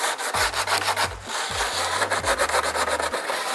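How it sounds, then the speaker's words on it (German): Coarse emery paper rubs along the edges of a new aerodynamic kit for a Lotus Exige V6 in rhythmic back-and-forth strokes, close and loud, with a low motor hum beneath. "Nehme ich groben Schmirgel, mit dem ich die Kanten"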